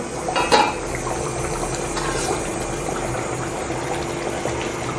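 A steady bubbling simmer of thick Chettinad chicken curry in a pot, with a brief metallic clank near the start.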